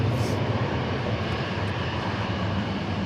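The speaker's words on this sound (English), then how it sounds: "our British Airways A380 just pushed back" A British Airways Airbus A380 airliner sits at DFW International Airport just after pushback, its engines producing a steady, heavy jet roar with a deep low rumble, loud and constant throughout.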